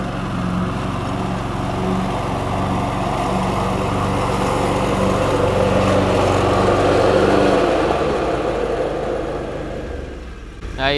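Lawn mower engine droning steadily nearby, a continuous mid-pitched hum that holds for about ten seconds before easing off, with no talk over it.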